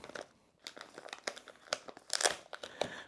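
Plastic wrapping is peeled and crinkled off a DJI Mini 4 Pro drone box, giving close, quiet crackles and tearing rustles in uneven bursts, with no talking.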